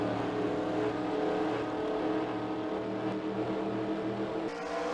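Pack of ARCA race cars at Orlando accelerating on a restart during the Combination 200 qualifying race, a loud, dense, continuous engine roar with layered droning tones throughout, no pauses.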